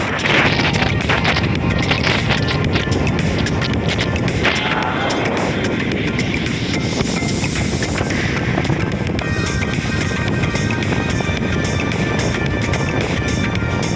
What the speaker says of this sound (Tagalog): Lakas na talaga ng hangin.